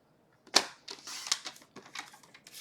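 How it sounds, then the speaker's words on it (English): A paper trimmer slices a cardstock strip down for a one-sheet-wonder card, giving a sharp snap followed by a quick run of crisp clicking and scraping bursts, close and alone. "I'm going to grab my other cutter. We're going to cut this down to 5 1/4"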